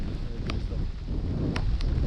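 Crosswind buffets the microphone in a steady, gusty rush while fishing on the Pechora river, with a couple of faint, brief clicks.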